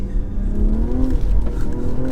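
A BMW M340i Touring xDrive estate accelerates hard on a cold, damp road, its engine note climbing loud and close in a rising pitch, heard from inside the cabin without speech.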